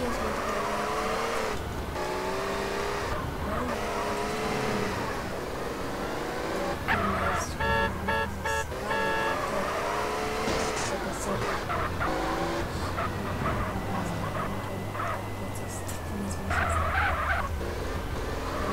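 A car driven in the video game GTA San Andreas heading for Mount Chiliad, its engine droning steadily throughout with tire skids and squeals, game sound effects and someone talking over it.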